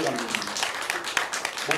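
An audience applauds as a director comes on stage, a dense, continuous wash of clapping that runs under a speaking voice.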